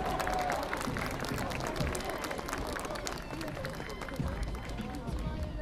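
An audience at the TOP FLOOR 2017 dance competition finale claps for the champions, a dense, continuous wash of applause mixed with crowd murmur that carries on throughout.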